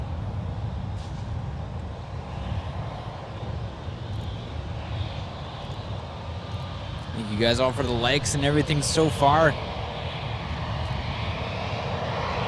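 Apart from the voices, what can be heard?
airliner jet engines at San Francisco International Airport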